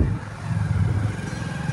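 A TVS Apache motorcycle engine runs with a steady low throb and slight clatter, close and continuous for under two seconds.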